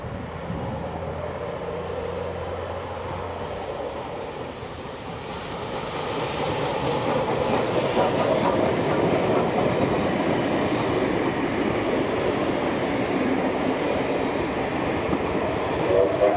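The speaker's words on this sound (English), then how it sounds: "Then we see it rolling through Wentworth Falls Station." A train rolls through Wentworth Falls Station in New South Wales, its rumble and clattering wheels building from a low hum to a loud, sustained roar as it passes close by.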